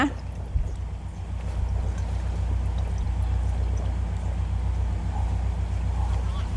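Boiled fish broth pours through a strainer to catch soft bones, making a steady, moderately quiet liquid rush that runs several seconds after a brief clink at the start.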